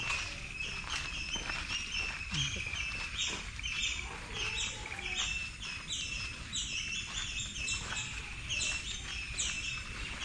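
Many birds chirp and call continuously in a dense chorus, steady and fairly close, with varied high tweets overlapping throughout.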